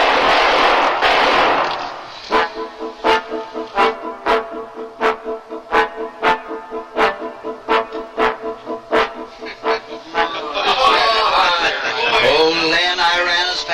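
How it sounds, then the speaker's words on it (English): Repeated sharp gunshot-like bursts in a radio drama chase scene, a steady train of about a dozen evenly spaced loud cracks between stretches of noisy voices and commotion. "Nobody's ever taken a shot at me before."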